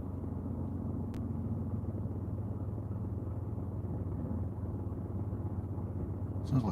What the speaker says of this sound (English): Sounds like a motorbike, it's a car next to me.